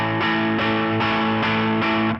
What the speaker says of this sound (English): We're going to hit that chord 8 times with down strums